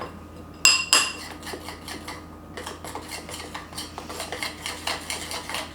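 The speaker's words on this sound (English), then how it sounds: "in went our 3 tablespoons of milk, and now we just mix" A spoon mixes icing with milk in a bowl for chai cookies, opening with two bright clinks against the bowl and then settling into a quick, repeated scraping and tapping rhythm close by, with no talking.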